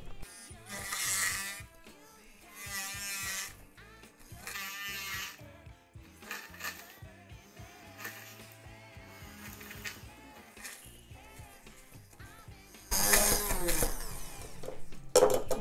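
A Braun immersion blender with its chopper attachment runs at maximum speed through nuts, giving several loud whirring bursts with rattling pieces and pauses between them. The motor surges louder near the end.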